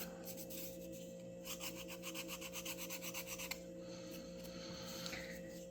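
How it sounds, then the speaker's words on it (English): A small file rasps attachment nubs off a laser-cut wooden keel part for a model sailing pram, a close, quiet rhythmic scraping of steady back-and-forth strokes over a faint hum, with no talking. "I'll clean off these attachment nubs here."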